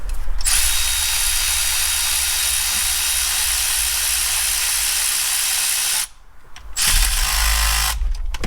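Snap-on ratchet working cylinder head bolts off a 2007 Chevrolet Silverado engine, a steady close mechanical whirring that runs for about six seconds, cuts out briefly, then starts again.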